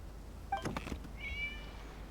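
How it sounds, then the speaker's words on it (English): A single short cat meow rises faintly out of quiet background noise, followed by a thin, sustained high whine. "It was just a cat"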